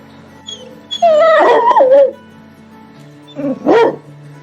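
Dogs barking and yelping in the isolation area of an animal shelter, two bursts of high, whining barks close by, separated by a short quiet gap.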